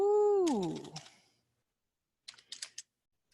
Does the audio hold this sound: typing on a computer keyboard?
yes